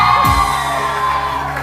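A studio audience member on a Hindi-language TV morning show shouts loudly, a brief rising yell that sweeps up then holds over a steady room background.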